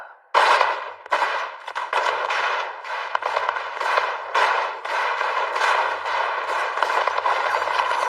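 Sustained rapid gunfire crackles in a loud, close barrage of repeated sharp bursts that run on for several seconds without pause, the shots blurring into a dense rattle.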